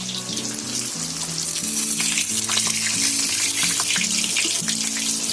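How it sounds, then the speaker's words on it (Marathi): Fish frying dhaba style in a pan, a constant loud close sizzle and crackle with a steady background hum, no talk. "आता आपली मच्छी फ्राय झालेली आहे"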